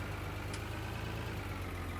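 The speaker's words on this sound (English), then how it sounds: "So we're going to pull in here and stop the tractor." Tractor engine idling in Farming Simulator 19, a low steady rumble with a regular pulsing throb, close and constant, with no talk.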